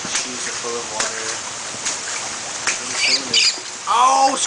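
A wet little bird caught in the rain gives short, high squeaks near the end, while a person's voice speaks and may imitate the squeaking over soft background wash.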